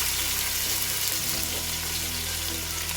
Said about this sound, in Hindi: अब मैं बाकी की सब्जी है उसे भी फ्राई कर लेती हूँ।